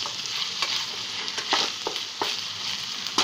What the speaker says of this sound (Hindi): ये हमने आलू इसमें डाल दिए हैं। अभी इसे थोड़ा सा स्टर कर लेंगे हम।